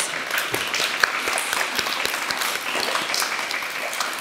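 At a school presentation day, an audience gives a round of applause for two students, a dense, even patter of clapping with a few sharper individual claps standing out.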